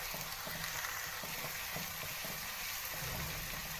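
Chicken karahi base frying in a pan, a steady dense sizzle running the whole time with faint scraping stirs underneath, no voices.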